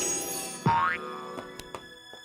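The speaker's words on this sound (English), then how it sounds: "I need a floating trampoline." Cartoon boing from a floating trampoline in an animated comedy series, one loud springy twang that rises in pitch and fades, with a few light knocks after it and no talk.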